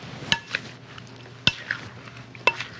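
Garden vegetables and bread chunks being tossed together in a bowl for an Italian panzanella salad, with three soft mixing scrapes roughly a second apart, close and quiet, no talking.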